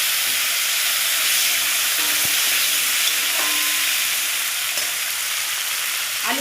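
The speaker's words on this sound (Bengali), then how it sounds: "আলু আর বেগুন একটু ভেজে নেব।" Potato and eggplant pieces fry in hot mustard oil, giving a steady, close sizzle and hiss throughout with a few faint clinks of a utensil.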